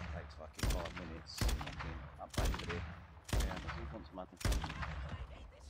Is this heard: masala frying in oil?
no